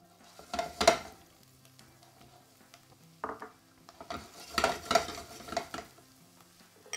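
Wild mushrooms hit a hot pan with olive oil, giving a soft sizzle with scraping and stirring bursts, two main busy stretches separated by a quieter pause.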